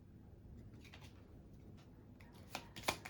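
A deck of cards is shuffled quietly, with soft riffles and slides building to a couple of sharper snaps near the end, faint and close in a calm room.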